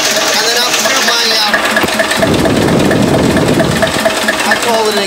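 A Listeroid single-cylinder diesel engine runs at home with its exhaust piped under the flywheel through a water-jacket exhaust boiler, thumping steadily and loud at close range while someone talks over it.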